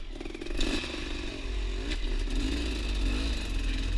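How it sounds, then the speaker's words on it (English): A kickstarted motorcycle engine runs nearby, a rough, rattling idle that grows louder and steadier after a short start, with a couple of sharp clatters and no talking. "continuously kickstarting the bike is"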